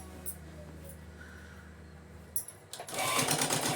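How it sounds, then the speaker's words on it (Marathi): A sewing machine stitches a salwar seam with a half-inch margin, idling faintly before kicking into a loud, close, rapid run near the end. "अर्धा इंचाचं मार्जिन ठेवून त्याला शिलाई मारत जायचं."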